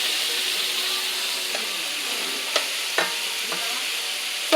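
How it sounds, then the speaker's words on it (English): Pork pieces sizzle in hot oil with a steady hiss, broken by a few sharp scrapes and taps of a utensil turning them in the pan. Close by and fairly loud, with no voices. "you don't have to fry it real brown right now because you just have to keep on turning and stirring"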